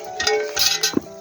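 A cast-iron camp oven opened outdoors to lift out baked bread: close metallic clinks and scrapes of the lid and pot, in short bursts with a sharp knock near the end.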